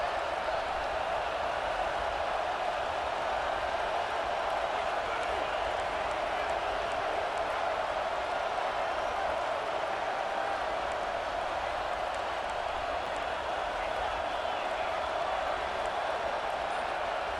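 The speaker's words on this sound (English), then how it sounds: "with this place rocking, the crowd forces a false start" A stadium crowd roaring in the college football video game EA Sports College Football 26, a dense, constant wash of cheering that holds at the same loud level throughout, with no distinct voices rising above it.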